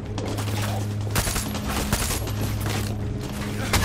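Bursts of rapid gunfire rattle through a Far Cry 6 firefight, dense and continuous over a low steady hum, with sharper volleys near the start and end.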